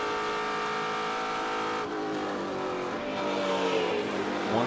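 A TA2 race car screams along at VIR racetrack, its engine holding a loud sustained high-revving note, then briefly dropping and climbing again with gear changes, no voices over it.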